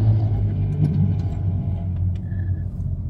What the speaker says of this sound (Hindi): स्पोर्ट्स कार जा रही है और उसका इतना शोर है